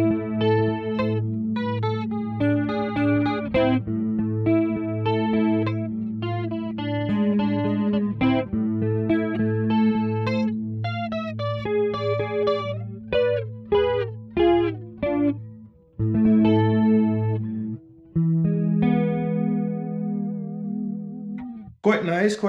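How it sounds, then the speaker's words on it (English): Ibanez RG550 electric guitar played through the neck pickup with effects, giving a round, warm tone with sustained chords and picked melodic lines, some chorus and distortion coloring, steady and fairly loud throughout. "Quite round, it's kind of what you would expect from a neck pickup, but it sounds very good"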